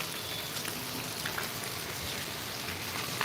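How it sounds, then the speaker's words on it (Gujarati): Steady, dense hiss of heavy monsoon rain pouring down without a break in Gondal, Gujarat, no voices, an even wash of noise throughout. "અત્યારે વરસાદ ખૂબ જોશમાં ચાલુ છે"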